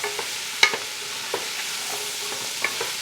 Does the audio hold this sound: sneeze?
no